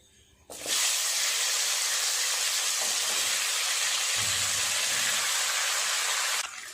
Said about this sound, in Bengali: ফোড়নটা ভাজা হয়ে গেছে দিয়ে দেব সবজিগুলো